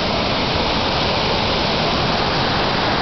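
Waterfall at Cachoeira do Chá, heard from its top: a loud, steady broadband roar of falling water, unbroken and close, with no voices.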